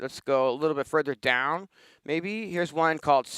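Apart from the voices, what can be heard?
None of the usual background noises is heard.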